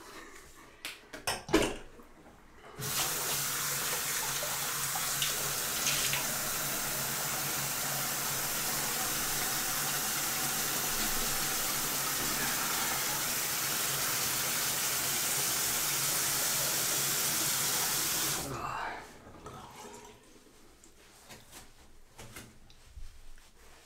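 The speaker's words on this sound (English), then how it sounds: "Let's have a rinse." Tap water runs steadily into a bathroom sink for about fifteen seconds while a face is rinsed after a wet shave with Proraso White cream, a loud, even hiss that stops abruptly and leaves quiet handling noises.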